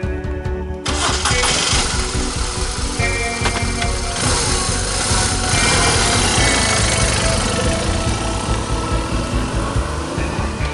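A BMW R 1200 RT motorcycle with around 300,000 km cranks briefly, catches and then settles into a steady, loud idle that runs on alone without any talk.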